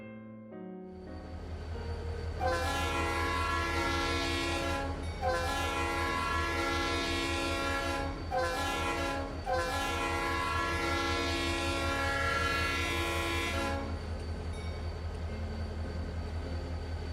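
An RS3L horn on a locomotive sounds in several long, loud chords with brief gaps between them, over a low rumble of the train rolling past. The horn fades at the end and the rumble continues. No voices are heard.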